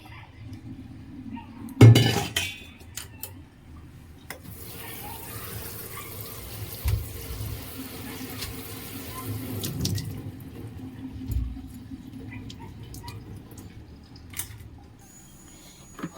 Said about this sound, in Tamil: இது நல்லா வெந்துருச்சு. இதை வடிகட்டிக்கலாம்.